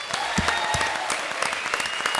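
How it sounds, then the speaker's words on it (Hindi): Studio audience on a televised comedy show breaks into loud, dense applause, with sharp individual claps punctuating a steady wash of clapping throughout. "जी के लिए एक बार जोरदार तालियां।"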